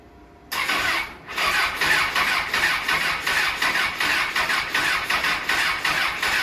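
Honda CBR1000RR motorcycle engine cranking on a jump box after a wreck, a steady loud starter churn with rhythmic pulses that begins abruptly, dips briefly, then continues without catching.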